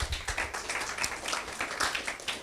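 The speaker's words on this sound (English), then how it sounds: "Please, can we give her a round of applause?" Brief scattered clapping from a small audience at a talk show event, uneven and moderately loud over a couple of seconds, with no speech on top.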